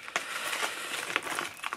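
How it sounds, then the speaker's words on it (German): Soft crunching and rustling as loose pipe tobacco is pressed down into a pipe bowl with a finger, a few short close-up crackles in quick succession. "So, leicht andrücken mit dem Finger."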